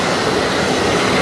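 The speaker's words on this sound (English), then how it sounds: "Third New Jersey Transit train in 20 minutes." A New Jersey Transit commuter train rolls past close by, a loud, steady broadband rumble and roar lasting just over a second.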